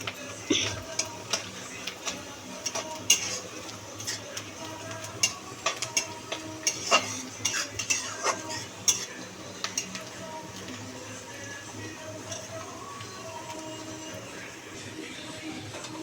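Onions browning in a pan for chicken fry, stirred with a utensil that gives frequent light scrapes and taps over a continuous soft sizzle, close by and steady throughout.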